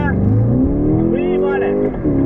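A car speeds up for a braking test, its engine note rising strongly and close at hand, partly under voices.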